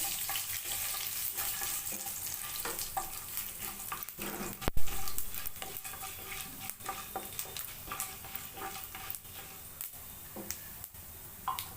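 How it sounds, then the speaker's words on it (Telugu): Tempering spices with chana dal and urad dal fry in hot oil, giving a dense, continuous sizzle with fine popping crackles. One louder knock or stir sounds partway through. "పోపు దినుసులు పచ్చెనపప్పు మినపప్పు అన్నీ వేసుకున్నామండి"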